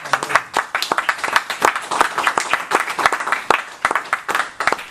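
An audience gives lively applause at the close of a lecture on migration. Many hands clap in a sharp, uneven flurry that holds steady through the whole stretch, with no voices over it.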